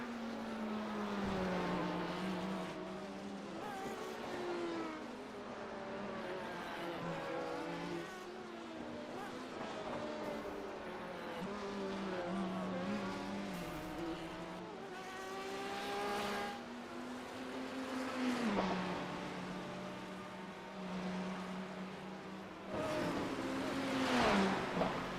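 Race cars, Corvettes among them, run the Belle Isle circuit in Detroit. Engines drone steadily, their pitch climbing and dropping through gear changes as cars pass, with voices talking at times.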